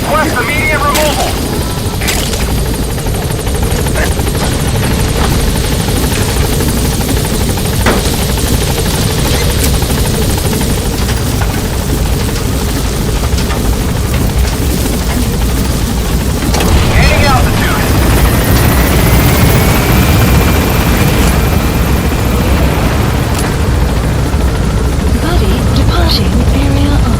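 A helicopter in the video game Metal Gear Solid V arrives at a landing zone with a continuous loud rotor drone throughout and occasional booms, while radio-style voices speak over it.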